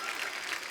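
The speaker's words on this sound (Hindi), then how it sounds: "एक बार गुरु रंधावा के लिए जोरदार तालियां।" Studio audience at a television comedy show applauds loudly, a brief, even burst of many hands clapping.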